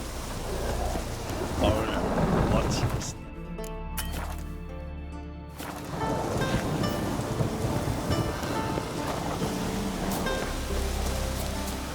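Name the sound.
rain and thunder in video game The Witcher 3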